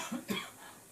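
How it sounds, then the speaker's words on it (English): Two quick coughs close by, a short harsh burst followed by a second, slightly stronger one, then quiet breathing room; coughing from fumes. "we're coughing because of the fumes"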